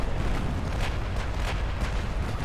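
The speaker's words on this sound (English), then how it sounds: "Torpedo hits on the Urchin." Torpedo hits exploding against a ship in the naval battle game Ultimate Admiral Dreadnoughts, a dense rumbling roar with several muffled booms rising and falling over a couple of seconds, loud and continuous.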